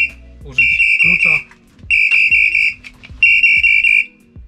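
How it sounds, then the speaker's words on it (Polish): A fire brigade motionless-person alarm (PASS device) sounds in three loud, sustained piercing electronic tones separated by short gaps, close by, with a voice speaking briefly before the first tone. "wyłączamy taki sygnalizator bez ruchu"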